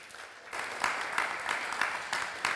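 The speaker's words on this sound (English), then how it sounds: "Round of applause for Vít." Audience applause for a panel moderator at a symposium, a steady clapping crowd that swells within the first second and holds evenly to the end.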